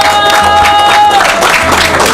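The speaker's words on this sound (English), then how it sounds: "Oh, let's clap for them." A quiz-contest audience claps for a school team, a loud, dense burst of applause from a crowd in a hall, with a sustained tone ringing over it for the first half.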